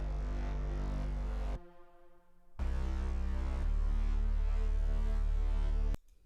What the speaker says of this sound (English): and some pads.